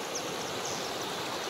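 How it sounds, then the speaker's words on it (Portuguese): Steady rushing water, a constant broadband roar from a waterfall, heard from a canoe at a moderate distance with no voices. "Olha aí a cachoeira"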